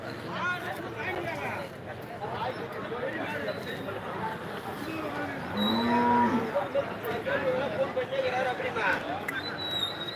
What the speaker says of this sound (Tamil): கீர் பசுக்கள் எல்லாம் பார்க்கணுன்றவங்க பார்க்கலாம் பாருங்க